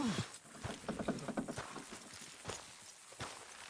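Horse hooves in Red Dead Redemption 2 clip-clop in an uneven walking rhythm, fairly quiet and close, with a few sharper knocks and no voices.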